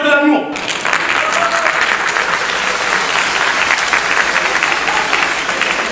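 Sustained audience applause fills a comedy stand-up show in Stains, loud and steady throughout after a brief voice at the very start.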